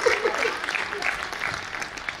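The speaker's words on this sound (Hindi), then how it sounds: "ताली बजाइए।" Seated audience at a Hindi comedy poetry gathering breaks into applause, dense continuous clapping for about two seconds with faint voices mixed in.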